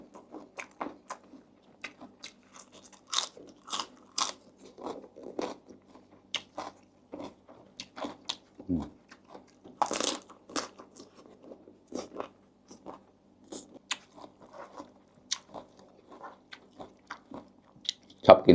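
Close, crunchy chewing and biting while eating a spicy canned fish salad, irregular crisp crunches and soft mouth sounds repeating throughout, with no talking.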